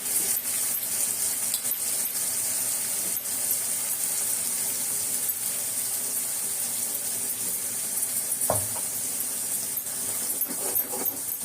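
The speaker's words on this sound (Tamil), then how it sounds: "இப்போ நம்ம இந்த அரைச்ச மசாலாவை இதில் போட்டுக்கலாம்." Ground masala of coconut, tomato, onion, green chilli, ginger, garlic and cashew fries in a pan for an egg curry, giving a steady close sizzle with faint stirring and scraping throughout.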